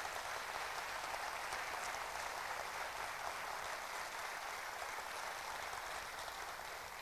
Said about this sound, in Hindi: सबसे पहले जोरदार तालियां हो